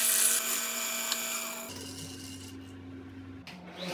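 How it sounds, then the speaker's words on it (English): A drill turning a 1 3/8 inch Forstner bit through wood gives a steady whining hum with tonal lines that shifts pitch partway through, then drops off near the end, close and with no voices. "I can drill it out with a 1 3/8 Forstner bit"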